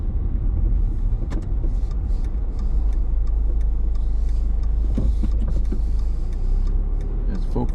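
Car interior on a city drive through Clifton, New Jersey: a steady low engine and road rumble continues through a U-turn, with a few faint clicks and thumps, and a voice speaks briefly over it.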